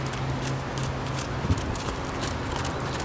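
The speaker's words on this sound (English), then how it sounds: "the horse moves forward enough when you're doing the posting trot" Horse hooves in a posting trot, a steady two-beat clip-clop on soft ground under a constant hiss of wind or background noise, at moderate distance.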